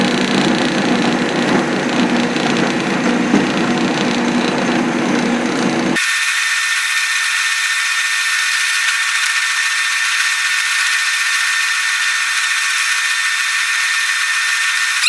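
A lathe drills a hole in a small metal part, producing a loud, continuous high-pitched whine that holds steady the whole time with no talking over it.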